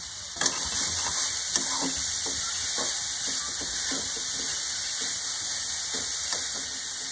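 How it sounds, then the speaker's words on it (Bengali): Grated carrots fry steadily in a pan over a low gas flame, giving a continuous soft hiss with a few faint scrapes and taps throughout. "এবার এর মধ্যে আমি গ্রেট করা গাজরগুলোকে দিয়ে ভেজে নেব।"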